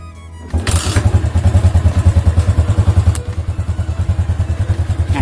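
A Yamaha Jupiter MX motorcycle with a popping exhaust fires up and settles into a loud, close, steady thumping idle, heard alone.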